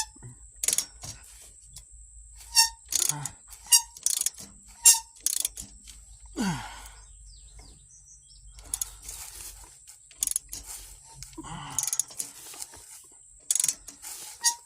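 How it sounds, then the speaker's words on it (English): A 1/2-inch ratchet with a 7/8 socket tightens a mobile home tie-down strap, giving spaced sets of sharp clicking strokes up close, with a creak and brief metallic rattles between. "Then we're going to use a 1/2 inch with the 7/8 socket. We're going to tighten it up."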